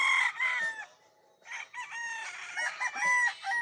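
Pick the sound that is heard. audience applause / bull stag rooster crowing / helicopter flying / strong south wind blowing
bull stag rooster crowing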